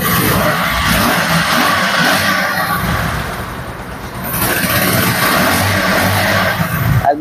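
A second-hand ABS-model motorcycle with about 4,748 km on it runs close by, its engine a loud, steady rumble that dips briefly and then picks back up.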